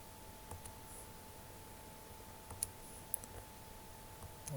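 Faint, sharp mouse clicks land one at a time at irregular intervals while diagonals of a regular hexagon are drawn on a computer, with a steady low hum underneath.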